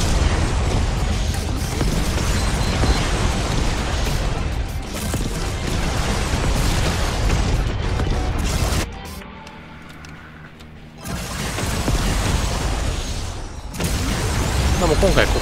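Dense, continuous air strike explosions rumble and crash in the zombie survival video game Yet Another Zombie Survivors, a loud sustained barrage broken by a brief quieter lull near the middle before resuming.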